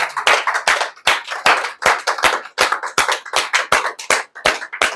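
A church congregation claps its hands in loud, steady applause for several seconds, a dense run of sharp claps with no voices over it.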